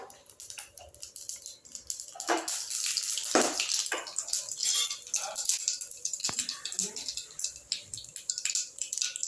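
Mustard seeds sputter and crackle in hot sesame oil as a tempering for chutney is started in a home kitchen, a steady dense fizz with sharp pops scattered throughout.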